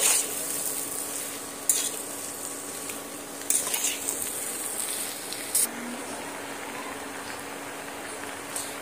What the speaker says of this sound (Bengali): এবার পুঁই শাক আর ডালটা সুন্দর করে এই ডালের সঙ্গে কষিয়ে নিতে হবে